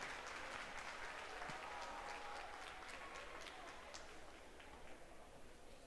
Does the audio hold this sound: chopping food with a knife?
no